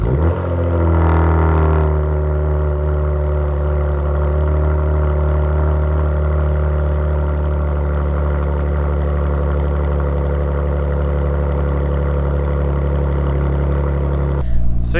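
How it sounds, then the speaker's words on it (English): Kia Stinger with mufflers and resonators cut out and a Velossatech intake kit, engine firing on a cold start then settling into a loud, steady high idle that drones on before a brief clatter at the end. "So you get a nice cold start now too."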